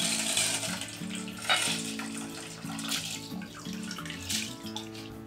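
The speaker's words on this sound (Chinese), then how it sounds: "所以我们继续添加水下去，要让它的总重量到达1400克" Water poured into rice flour in a bowl on a kitchen scale for radish cake, a steady splashing trickle with gurgles running throughout, close and unaccompanied by speech.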